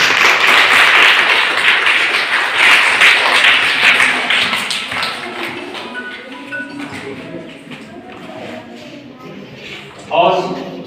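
An audience at a school Ambedkar Jayanti function claps loudly to welcome a guest. Dense applause fills the first several seconds, then fades into scattered claps and murmuring, and a short burst of sound comes near the end.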